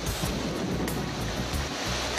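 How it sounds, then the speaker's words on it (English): A doldrums rain squall hits a solo sailboat at sea in 30-knot wind, making a dense, continuous roar of rain, wind and rushing water with a few sharper splashes, loud and unbroken. "This is a typical doldrums rain squall. Been 30 knots in this, see the water coming out of the main"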